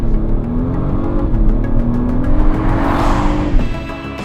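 A 2025 Acura MDX Type-S turbocharged V6 SUV on the move, a steady close engine drone rising in pitch as it accelerates, with road and tyre rush underneath.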